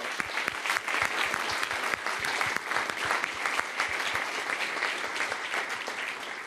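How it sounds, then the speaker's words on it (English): Dense, sustained applause fills the room at a European space agency mission briefing for a comet lander, steady and loud across the whole stretch, with no voices on top. "let's give them an extra applause."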